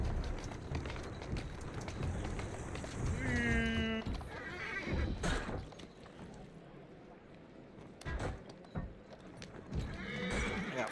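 Horse-drawn carriages roll along a road in Dragon Age Inquisition, with continuous clip-clopping hooves, rattling wheels and a clear horse whinny midway, while a voice talks over the busy traffic.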